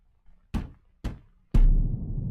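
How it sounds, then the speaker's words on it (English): Three loud, hard knocks strike a door one after another, each sharp impact ringing briefly, with the last blow heavier and followed by a sustained low rumble. "if you knocking at my door like that"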